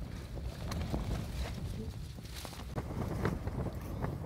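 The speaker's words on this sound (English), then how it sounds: "Certainly a good test of the wind up here anyway." Wind buffets a Lightwave Sigma tent on an exposed spot, giving a faint, steady rushing roar with soft irregular flaps and rustles of fabric throughout, no voices.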